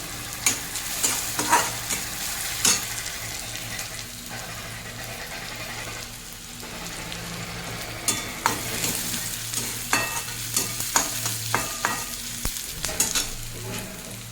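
Chopped tomatoes sauté in a pan for masala Maggi, giving a steady sizzle broken by repeated sharp scrapes and taps of a spoon stirring, close and loud, with no talking.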